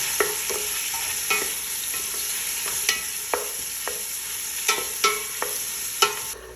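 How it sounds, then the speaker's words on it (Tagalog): Chopped onion fries in a pot on the stove, a continuous sizzle with regular scraping knocks from a utensil stirring it every half second or so, close and fairly loud, with no talking. "lulutuin ko dito yung onion ng more brown yung kulay niya"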